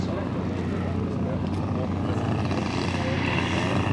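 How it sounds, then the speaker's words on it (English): A giant radio-controlled P-47 Razorback model plane with a 12-foot wingspan flies past at an air show with its gear down, a loud, steady propeller-engine drone filling the whole stretch while a commentator talks over it. "The P-47 Razorback coming from the left,"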